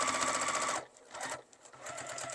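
A sewing machine stitches down the side of a zipper on a small key chain zipper pouch, running in a steady rapid whir, pausing briefly, then resuming with short bursts of stitching, close and clear.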